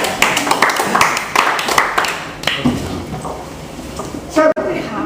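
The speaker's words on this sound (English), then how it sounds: "Give the girls a round of applause." Bar audience at a magic and mentalism show gives a short round of clapping, distinct claps early that thin out and fade, with someone talking over the applause and after it.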